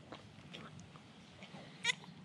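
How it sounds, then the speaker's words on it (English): A bottle-fed baby goat gives a few soft, faint bleats against a quiet background, with one brief sharper call near the end. "Is that a satisfied goat?"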